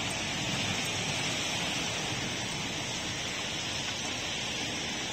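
Steady rain falls by an outdoor koi pond, an even, dense hiss with no pauses and no voices.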